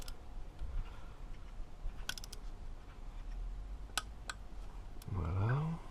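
A torque wrench tightens injector clamp bolts on a Citroën C5 HDI 163 DW10CTED4 diesel engine to 7 newton-metres, with a few sharp metallic clicks and ticks over quiet workshop ambience, and a short low voice near the end.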